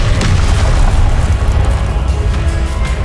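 The Confringo blasting spell from Hogwarts Legacy erupts as a loud, deep explosive boom that rolls into a continuous heavy rumble filling the whole stretch, with no talking.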